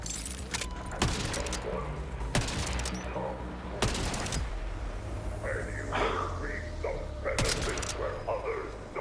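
Gunfire in the video game Borderlands 4: several sharp, loud shots in irregular bursts with short gaps between them, mixed with game effects and someone talking.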